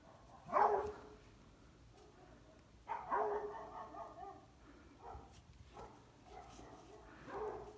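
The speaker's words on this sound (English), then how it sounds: "it must be a dog walking by because there seems to be one going woof" A neighbourhood dog walking past barks a few times at a distance, with separate woofs spaced several seconds apart over a quiet indoor background.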